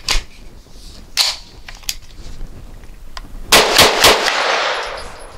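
A Grand Power Stribog SP9 A3 fires Winchester Super Clean 9mm ammunition: a few sharp separate shots, then a fast close burst of about four rounds fading into echo.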